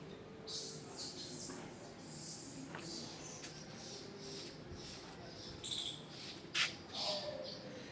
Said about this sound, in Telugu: కేవలం కొన్ని పిచ్చుకలు, కొన్ని ఉడతలు, ఆ నిశ్శబ్దాన్ని అనుభవించండి.